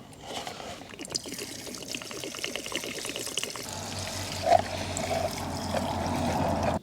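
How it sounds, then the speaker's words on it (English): E5 premium fuel poured into the tank of a classic car, a steady trickling, splashing liquid flow that builds and fills over several seconds, close by with no talking. "get 10 quid's worth of E5 fuel, which has got a higher octane level. I'm going to dump it in now"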